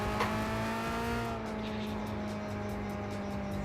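Engine of a car driven in Gran Turismo 5, a steady sustained drone with strong harmonic bands holding a constant pitch, fairly loud and unbroken throughout with no one talking.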